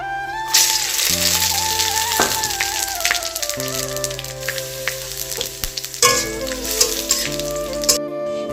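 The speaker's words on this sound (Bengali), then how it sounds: "এবার আমি ফোড়নে দেবো তেজপাতা, শুকনো লঙ্কা, জিরে আর রাঁধুনি" Bay leaf, dried chili, cumin and radhuni hit hot oil in a pan and sizzle loudly and continuously, with sharp crackling bursts near and up close throughout.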